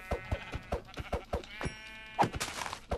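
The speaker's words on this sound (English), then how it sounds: "But I've got some sheep." Sheep in the game Minecraft bleat repeatedly, a run of short rhythmic blips followed by a couple of longer bleats, close and clear over quiet.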